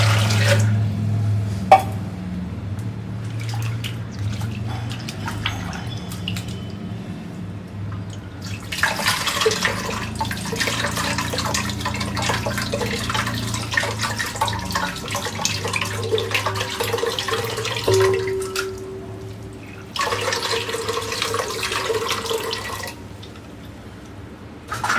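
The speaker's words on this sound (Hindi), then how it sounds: "अब हम इसमें और पानी डालेंगे।" Water is poured into a vessel of soaked soybean dal in a home kitchen, coming in several separate splashing bursts between quieter gaps with faint dripping.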